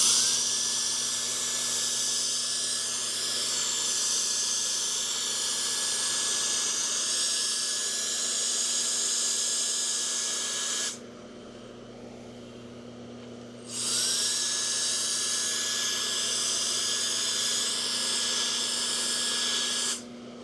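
A GooLoo F3 cordless air duster fitted with a longer nozzle blows a loud, steady high-pitched whirring jet, cuts out for a few seconds, then spins back up and runs again, close and with no talk.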